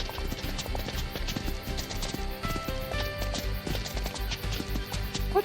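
Several horses gallop, hooves beating out a quick, loud, driving clip-clop rhythm up close, with a few sharp knocks and a steady rumble beneath, no talking.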